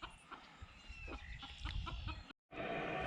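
Small bantam chickens, Easter eggers and golden Sebrights, cluck and murmur faintly outdoors in a soft, irregular chorus, briefly cut out near the end.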